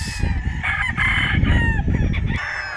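A Street Comb Gilmore gamefowl rooster crows loudly and close at a gamefowl farm in Tanauan, Batangas, one long drawn-out crow over about two seconds with clucking around it and other birds in the background.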